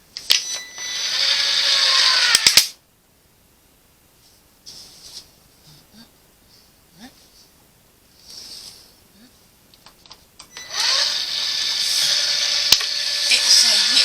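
A cutting machine runs in two bursts of steady high whirring, one at the start and one at the end, with a near-silent gap between them broken by faint clicks and soft movement sounds.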